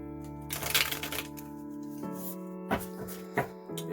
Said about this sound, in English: or whether you do the ruffle shuffle.